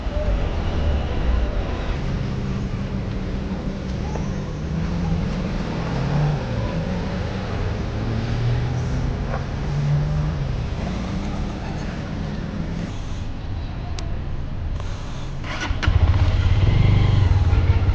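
A GPX Demon GR motorcycle engine runs steadily with a low, continuous rumble and humming drone. It grows louder near the end, with a voice talking over it.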